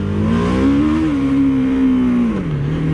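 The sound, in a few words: BMW G 310 R motorcycle engine revving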